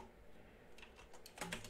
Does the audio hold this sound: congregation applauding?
no